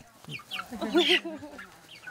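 A pet chicken at the Rankin Ranch petting zoo in California clucks in a short run of close, moderately loud calls, one call rising more sharply near the middle.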